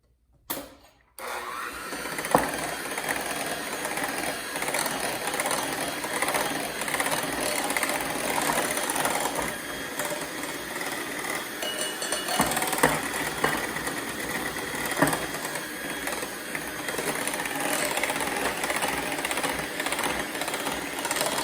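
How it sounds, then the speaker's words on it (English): Electric hand mixer beating banana bread batter with flour added bit by bit, a steady close motor whir running continuously after a brief start, with no talking. "I'm gonna mix it with my hand mixer"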